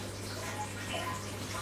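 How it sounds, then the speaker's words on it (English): Water runs steadily through a home tower garden, a soft, constant trickle and hiss heard faint and even throughout, with a low hum beneath it. "that sound of water is our tower garden"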